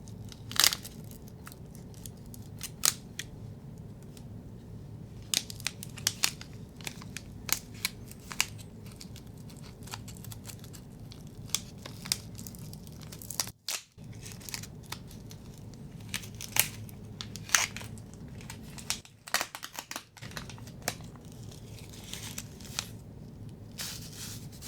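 A goji berry tea packet is peeled open up close in a quiet room, with soft crinkles, rustles and sharp little tearing ticks scattered irregularly over a faint background hiss.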